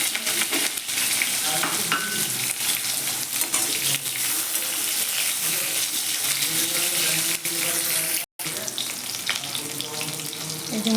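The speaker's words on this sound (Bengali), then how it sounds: "ভালো করে আমটি লাল লাল করে ভেজে নিচ্ছি" Chopped mango pieces frying in hot oil with cumin, chillies and turmeric, a dense continuous sizzle with stirring scrapes, close and fairly loud, briefly cutting out near the end.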